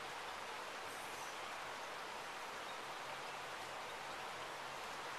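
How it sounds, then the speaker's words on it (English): Heavy rain pours down outside a patio at night, a dense, even hiss of falling water that holds steady throughout, soft and somewhat distant, with no voices. "this pouring down rain just has us out here on the patio"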